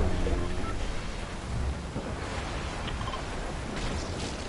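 Storm thunder in the Fortnite video game, a continuous broadband rumble and rush of noise that stays fairly steady throughout.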